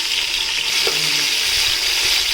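Onions and tomatoes sizzle loudly in hot oil for mutton biryani, a dense, steady, close frying hiss with faint stirring scrapes.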